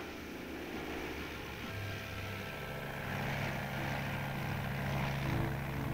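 Army propeller airplane flying in low for an air pickup over ground marker panels, a steady droning engine hum that swells slightly as it nears, with no talk.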